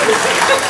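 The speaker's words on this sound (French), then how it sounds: "Est-ce qu'on peut l'applaudir pour nous qu'elle rapproche, s'il vous plaît?" Audience applause at a French-speaking evening event, a short burst of dense, steady clapping that fills the whole moment with no talk over it.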